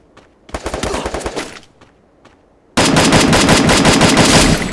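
Rapid automatic gunfire in the video game Free Fire, first a short burst of sharp cracks, then a few isolated shots, then a dense, loud, continuous volley filling the back half.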